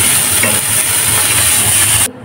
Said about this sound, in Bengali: মাছটা প্রথমে ভেজে নিচ্ছি